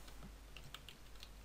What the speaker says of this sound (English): So I'll type in URL